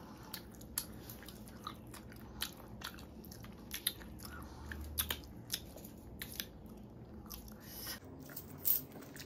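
Chewing and biting while eating fried hilsa fish, with soft crunches and wet mouth noises repeating irregularly at close range in a quiet room.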